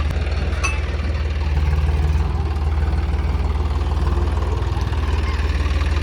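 A tractor's diesel engine runs in a steady, loud low chug as it is driven home, its rhythmic throb constant throughout with no voices over it.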